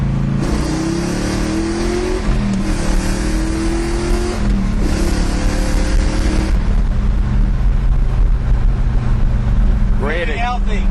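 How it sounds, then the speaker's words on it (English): Big-block Chevrolet El Camino with a 12-bolt 3.73 posi rear and four-speed revs and accelerates hard, its loud engine note climbing through gear changes, with a person talking briefly near the end. "I just love the way this car accelerates."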